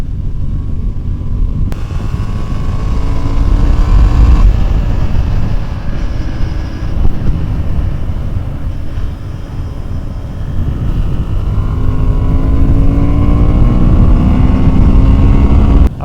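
A 2023 Honda Hornet twin cylinder motorcycle is ridden with a loud, continuous engine roar mixed with wind rush, its pitch rising and falling through gear changes and acceleration.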